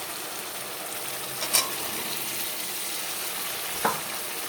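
Papaya sautés with spices in oil, a steady close sizzle broken by two sharp spoon-against-pan clinks, one early and one late.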